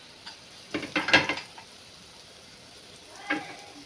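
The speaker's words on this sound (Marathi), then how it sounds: "कांदा पण आपल्याला चांगला परतून घ्यायचा आहे." Onion sautéing in a pan with green chillies, soft sizzling with a few clattering stirs of a spoon against the pan, close and fairly quiet.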